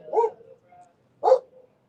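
A dog barks twice, close and loud, with each short bark followed by a brief pause.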